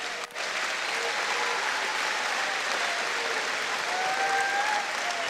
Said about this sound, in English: Can we please give one more round of applause to our hardworking Haumana?